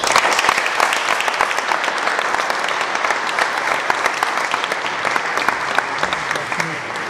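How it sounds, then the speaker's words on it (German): An audience giving sustained, dense applause for musicians at a Danube Swabian community gathering, loud, even clapping that carries on unbroken throughout. "Sie verdienen auch einen herzlichen Applaus."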